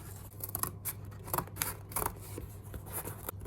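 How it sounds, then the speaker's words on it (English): Close-up scissors snip and crunch through stiff cardboard in a series of uneven cuts, with faint rubbing between strokes over a low steady hum. "cutting cardboard is difficult, so a good pair of sharp scissors helps"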